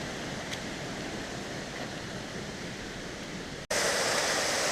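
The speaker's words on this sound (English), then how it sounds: "Come up on all these really gorgeous waterfalls" Waterfalls rush down a ravine on Mount Washington in New Hampshire, a loud continuous roar of falling water that grows sharply louder near the end.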